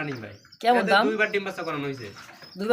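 A pair of Australian doves gives soft, repeated cooing calls from close by, with a few brief chirps over about three seconds.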